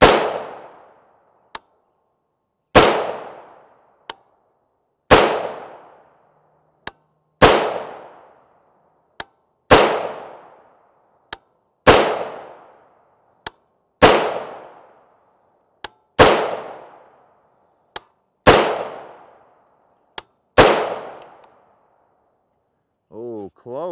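A rifle firing 5.56x45mm 55gr FMJ rounds outdoors: about ten loud, sharp shots spaced roughly two seconds apart, each ringing out in a decaying echo, with faint clicks between.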